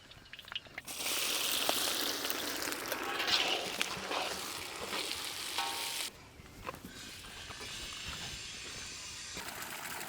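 Onions fry in hot oil with spices in a pan for chicken donne biryani, giving a steady close hissing sizzle with scraping stir sounds, the sizzle easing to a quieter crackle partway through.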